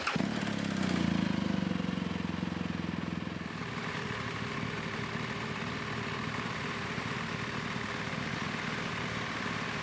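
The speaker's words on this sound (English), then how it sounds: "We're going to start the engine and bring it up to temperature" A BMW R1200GS motorcycle engine catches and settles into a steady idle as it warms up, a low, even mechanical hum heard close by with no voices.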